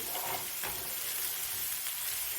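Small fish fry in a shallow layer of oil for a mango curry, giving a dense, steady sizzle that crackles without pause from start to end, close and fairly loud.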